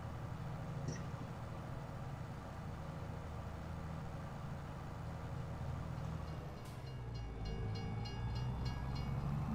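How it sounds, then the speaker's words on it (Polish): A train rolls past in Farming Simulator 22, a steady low rumble of wheels and cars with a faint horn-like tone near the start and a shift in pitch as it goes by, no voices. "ja akurat pociąg jedzie."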